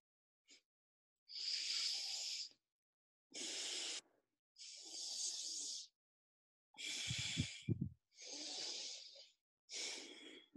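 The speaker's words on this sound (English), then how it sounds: "alternate nostril breathing technique that I learned" Someone practises yogic alternate nostril breathing up close, drawing about seven slow, hissing breaths through the nose, each a few seconds long and separated by silence, with one rougher, deeper exhale in the middle.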